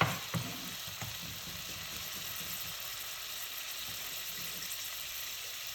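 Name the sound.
garlic frying in pot for seafood soup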